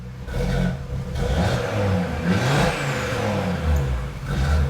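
Audi RS3 with a non-resonated exhaust and closed flaps, blipped through several short revs, close and fairly loud, each rise in engine note dropping back to idle between pulses.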